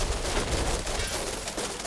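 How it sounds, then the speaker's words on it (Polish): Arrows loosed at enemies in Diablo 3, heard as a dense, continuous barrage of rapid sharp shots and impacts layered with game noise, loud and steady throughout. "Dobra, trochę strzały im puścimy."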